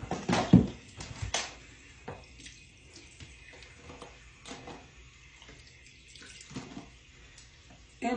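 A running tap wets a headband wig, giving a low, steady water hiss with a few louder splashes near the start, fairly quiet and with no talking.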